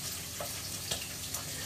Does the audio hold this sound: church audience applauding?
no